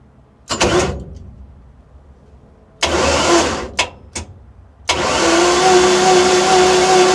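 A landing craft's marine engine cranks on its starter in short loud bursts, sputtering a couple of times before catching and settling into a steady, close running drone.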